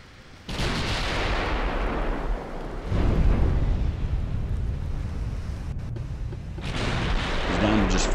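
Warship turret guns firing in the naval game Ultimate Admiral: Dreadnoughts, heavy booming blasts followed by long rumbling roars, loud and close, with a second salvo after a lull.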